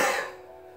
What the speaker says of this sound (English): and exhaling with a loud cough.